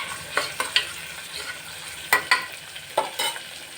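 Tomatoes being added and stirred into chicken curry frying in a pan: a few sharp scraping clinks of a spoon against the pan over a low sizzle, in short irregular bursts with no talking.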